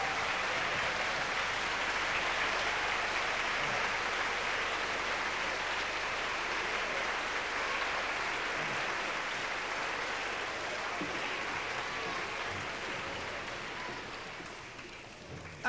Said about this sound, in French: je vais vous présenter, et on va les applaudir, le Grand Orchestre Symphonique de Bordeaux.